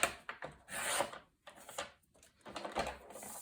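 Cardstock trimmed on a paper trimmer for a mini album page, several short scraping and rasping strokes in quick bursts separated by brief pauses, close and fairly quiet with no talking.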